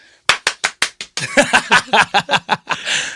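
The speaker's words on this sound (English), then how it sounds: "I don't even think I can clap in time" Hands clapping: a few evenly spaced sharp claps, then a quicker run of claps, loud and close, with a short burst of voices overlapping the later claps.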